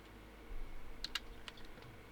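A few quick keyboard key clicks, typing on a computer during a Gems of War game session, with faint background hum and no talk.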